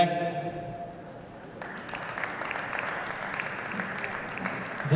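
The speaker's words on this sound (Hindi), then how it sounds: "बजती हुई तालियां" Audience applause breaks out after a yogasana performance at a National Games men's traditional singles semifinal, swelling in shortly after the start and continuing as a steady, dense clapping to the end.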